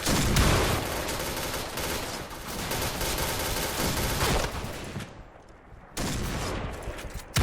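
Sustained automatic gunfire from PUBG, a long dense volley of rapid loud shots with brief pauses near the end before firing resumes; a high-capacity shotgun is in use.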